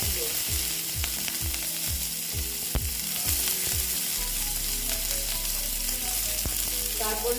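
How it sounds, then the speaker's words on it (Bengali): Cumin and onion frying in hot oil, a loud close sizzle with stirring, while a rhythmic mechanical clatter repeats for the first four seconds and then gives way to a steady low hum; no voices. "দেখো জিরেটা প্রায় হয়ে এসছে এবার আমি দিয়ে দিচ্ছি পেঁয়াজ"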